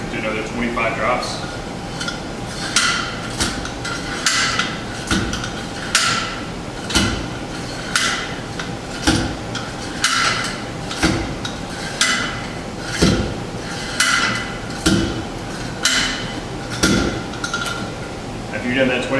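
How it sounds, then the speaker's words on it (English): A Proctor compaction hammer drops again and again onto soil inside a mold in a lab, each blow a sharp metallic thud arriving at a steady, even rhythm of roughly one per second, close and clear. "Take the hammer, do another 25 drops."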